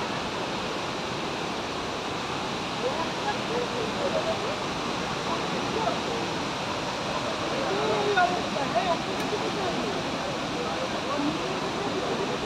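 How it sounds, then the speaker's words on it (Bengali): Water gushes from the opened gates of Maithon Dam as a broad, steady roar that fills the whole stretch, with faint voices mixed in underneath. "আমাদের ডিবিসি থেকে জল ছেড়েছে, দেখো অনেকদিন পর ডিবিসি থেকে জল ছাড়া দেখলাম"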